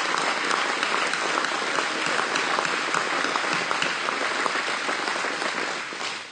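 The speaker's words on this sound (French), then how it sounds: "Donnons-lui une bonne main d'applaudissement." Loud, sustained applause from a church audience, a dense crowd clapping continuously and evenly, tapering off slightly at the end.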